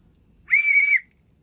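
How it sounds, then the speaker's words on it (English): An old cork-ball pea whistle is blown once, a single bright trilling tone lasting about half a second, loud and close, with quiet background before and after. "The last two items are an old whistle. No name on this one, but it's still got its ball. See, cork ball."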